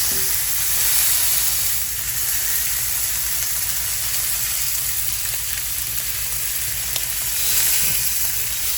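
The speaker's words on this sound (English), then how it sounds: "So I got this on high heat and I'm just gonna sear it." Meat searing in a pan over high heat, a continuous loud sizzle and hiss that holds steady throughout.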